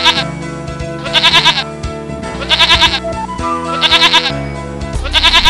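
Animated bleating of sheep in a children's cartoon tale, a few repeated bursts of nasal bleats spaced regularly over a sustained musical backing, loud and close.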